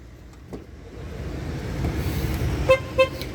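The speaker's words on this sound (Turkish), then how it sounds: "korna uyarıyla kapının açık olduğunu söylüyor" Two short car horn honks from a 2017 Ford Courier, warning that a door is open, sound in quick succession over a low background hum.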